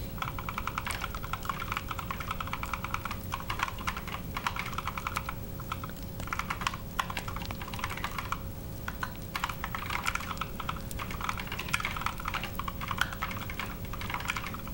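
Rapid, continuous typing on a computer keyboard, with dense keystroke clicks close by and steady throughout, and no voices.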